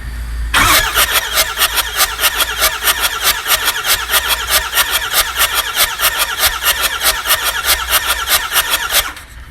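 An engine cranks over on its starter during a compression test, a loud, close, rhythmic whirring churn with regular pulses that starts abruptly, runs steadily for about nine seconds and then stops.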